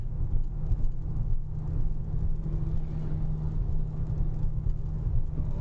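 Rain falls while a car drives on a road in the Arkansas Delta, a constant low road hum inside the cabin with faint rain hiss over it and no talking.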